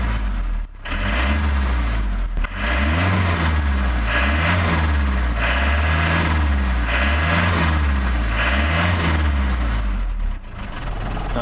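A 1990 Iveco Daily 35-8 diesel van runs with a rough, rhythmic throb. The old engine's low pulsing is loud and steady, with a couple of brief dips.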